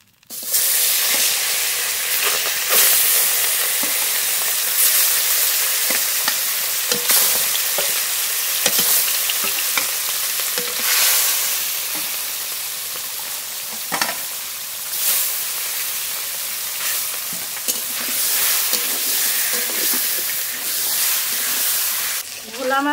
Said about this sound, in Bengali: একই তেলে রুই মাছ ভেজে নেব।